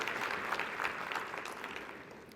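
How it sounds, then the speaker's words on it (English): Steady applause from a large audience at a conference opening session on global public health, a dense continuous patter of clapping holding at an even level throughout. "we welcome you with a strong round of applause"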